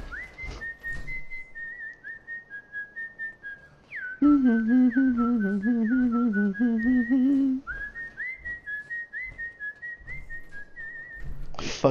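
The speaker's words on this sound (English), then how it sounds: "he's doing the Kill Bill whistle." The Kill Bill whistle tune heard in the video game Fallout 4: a clear, sustained melodic whistle that runs the length of the clip, joined midway by a louder, richer tonal instrumental line.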